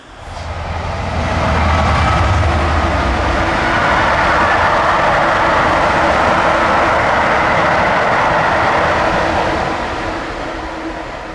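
A train runs along the railway just beyond a hedge near the old Newnham station site in the Forest of Dean, giving a broad, steady rumble that swells early, holds for several seconds and eases off at the end, with no voices.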